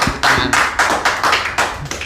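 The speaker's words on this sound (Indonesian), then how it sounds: "tepuk tangan." Clapping at a village community gathering in Tamanmartani, about eight loud close claps in a loose steady rhythm with no talking.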